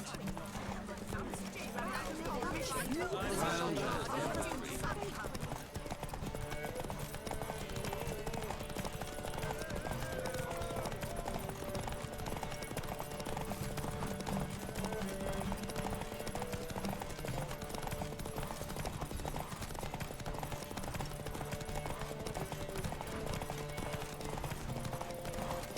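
The horse Roach galloping in a race in The Witcher 3, steady rhythmic hoofbeats pounding throughout, with a shout near the start and game music and voices layered over the hooves.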